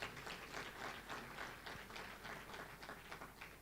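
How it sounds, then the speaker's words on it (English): An audience at a World AIDS Day commemoration applauds, a faint, dense patter of many hands clapping steadily from a distance. "Would you please give him a hand of applause?"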